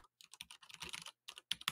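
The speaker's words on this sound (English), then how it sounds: "you can hear keyboard noises" Rapid computer keyboard typing, close and crisp, with irregular bursts of clicking keys separated by short pauses, no voices.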